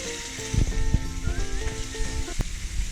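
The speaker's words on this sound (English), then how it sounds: "Now the bacon is cooking" Bacon frying in a pan, a crackling sizzle close by with irregular pops and spits, steady under faint background noise and a few clinks.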